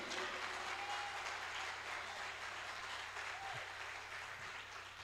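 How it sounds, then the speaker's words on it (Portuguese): A church congregation applauding, a dense, continuous wash of clapping that stays steady for several seconds and eases slightly near the end, with faint voices underneath. "Dá um aplauso a Jesus com força aí."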